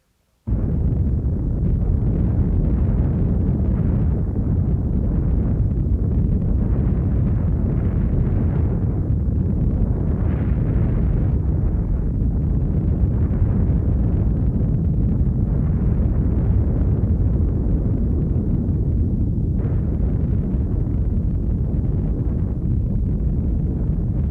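Mount St. Helens erupting as a massive, sustained low roar, a dense rumbling wall of sound that holds steady and loud throughout with no voices.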